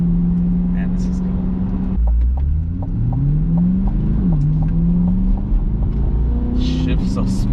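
Chevrolet C8 Corvette accelerating hard in track mode, engine revving up through the gears with a deep rising roar and a quick shift, heard from inside the car, with voices talking over it.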